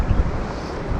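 Wind at a lakeside fly-fishing spot in Selvin Park, Minnesota, blusters across the microphone in a brief, rough, low rumbling gust.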